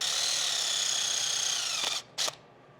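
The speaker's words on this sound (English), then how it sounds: "I'm just gonna drill a hole in the back here" A power drill with a 7/64 bit bores a hole in the back of an Audi glove box. It makes a steady, high whine for about two seconds, stops abruptly, then gives one short burst.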